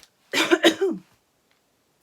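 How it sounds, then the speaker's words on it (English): A single close, harsh cough burst with a few quick hacking pulses, followed by near silence. "Oh, just suddenly had a real cough."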